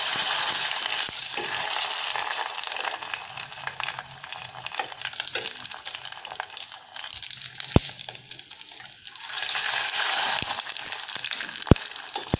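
Continuous hissing sizzle of tofu skin frying in hot oil, crackling steadily throughout with a few sharp pops, close and fairly loud.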